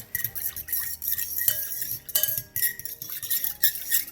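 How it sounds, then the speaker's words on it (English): A fork whisks a yeast and water mixture in a bowl, clinking rapidly and repeatedly against the sides. The bright metallic taps come in quick irregular bursts with brief pauses, close and fairly loud. "we're just gonna take a fork and mix this together so that we can hydrate that yeast"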